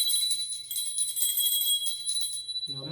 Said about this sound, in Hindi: चलो आप ये घंटे बजाओ